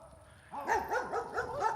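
Several dogs bark in quick repeated yaps at moderate distance, a steady run of sharp barks that starts abruptly and continues without pause.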